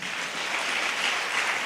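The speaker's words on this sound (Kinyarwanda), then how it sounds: "Dukomere Imana amashyi." A church congregation claps briefly, honoring God: a soft, even patter of many hands that holds steady for a moment, with no voices.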